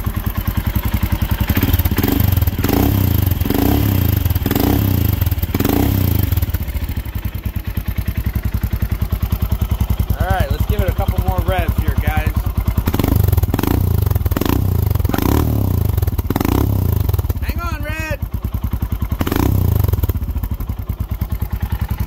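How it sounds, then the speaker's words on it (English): A 2021 Royal Enfield Himalayan single-cylinder engine, choke just turned off, revved repeatedly up close: loud rising and falling throttle bursts over a rough, clattering idle. "we'll turn that choke off and we'll give it some revs for you"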